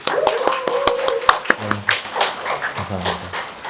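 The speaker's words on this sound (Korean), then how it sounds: "박수로 한번 시작해보면 좋을 것 같습니다." Forum audience applauding to open a democracy event, a short burst of scattered hand claps mixed with taps and a voice speaking over the start.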